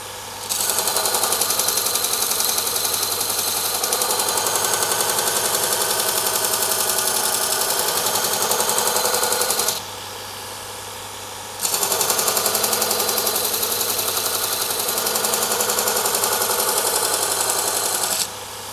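An axe is ground against a powered grinder held in a Hewn and Hone jig, giving a loud, continuous abrasive whine that stops for a couple of seconds and then runs on steadily.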